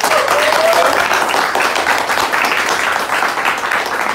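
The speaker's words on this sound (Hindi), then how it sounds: "जोरदार तालियां है मेरे लिए" Loud applause from an acting class audience in a live studio session, dense continuous clapping that holds steady throughout.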